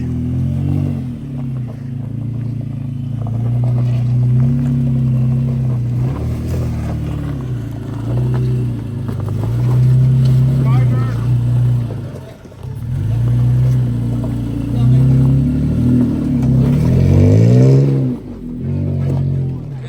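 A truck engine revs and labors loudly and steadily through a rocky off-road stretch, its back tire rubbing on rock, with brief dips before the engine pushes again; people talk faintly underneath.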